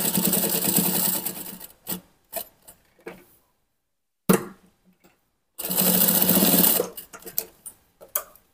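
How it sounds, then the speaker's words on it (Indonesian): Sewing machine stitching the waistband of a pair of men's trousers, running in two loud sustained bursts with short, quieter stop-start stitches and pauses in between. "Selanjutnya kita jahit sedikit menyudut ya."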